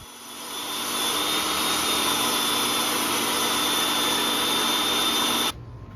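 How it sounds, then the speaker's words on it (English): Table saw ripping maple boards to width, a loud steady whine and roar holding for about five seconds with a high tonal edge, then cutting off abruptly near the end. "ripping everything through the table saw so they're the right width"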